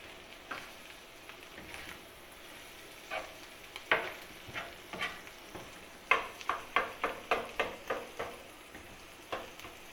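Garlic, onion and crushed green chillies fry in oil with a steady low sizzle, broken by a series of sharp clinks and taps as the pan is stirred, a quick burst of them clustered near the end.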